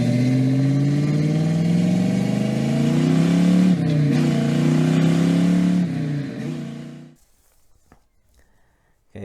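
A Pontiac Firebird engine revs up close and loud, its pitch climbing and wavering through several pulls before cutting off abruptly into near silence.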